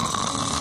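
A voice imitates a giant ogre snoring in a storytelling of Jack and the Beanstalk, one loud, rough, rumbling snore held briefly before cutting off.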